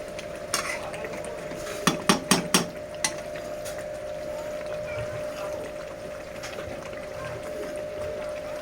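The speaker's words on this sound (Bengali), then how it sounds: "এদিকে দেখতেই পাচ্ছ মাংসটা কষছে" Meat sautéing in a pot on the stove: a steady low frying hiss, broken by a quick run of five or six metallic clanks and scrapes of a spoon against the pot, then simmering on alone.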